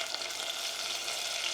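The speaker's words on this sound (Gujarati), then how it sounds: "હવે ટમેટા અને મસાલો કૂક કરવાનો છે સાથે" Tomatoes and spice masala cooking together in a pan with salt for a mushroom masala, a dense, continuous crackling sizzle heard up close and unbroken throughout.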